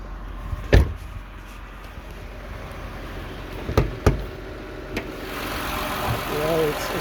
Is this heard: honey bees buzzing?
no